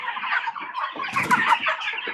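Chickens on a small farm cluck and chatter in a close, busy flock, with overlapping short calls and a brief burst of louder squawking midway, no voices.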